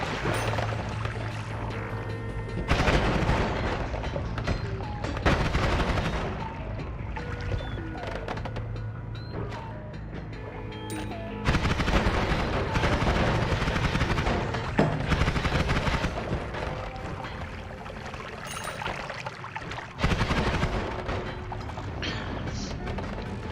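Spells are fired in the video game Noita, with repeated bursts of blasts and thuds coming in clusters, loud and close, over steady game ambience and intermittent talk.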